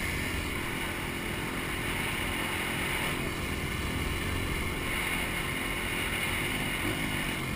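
An antique motorcycle or scooter on a group ride cruises in a steady, loud engine drone with wind rush, holding an even tone with no clear gear change; no one speaks.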